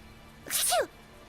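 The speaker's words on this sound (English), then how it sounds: "Still, to think Seraphim sneeze just like we do." A single short video-game sneeze, close and sharp, rising from a quick intake into a bright burst against a quiet background hum.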